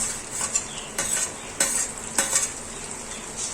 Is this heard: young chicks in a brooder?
no